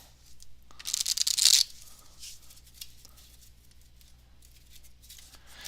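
A short, crisp riffle of flicking cards, about a second of rapid fluttering, followed by soft handling sounds in a quiet room.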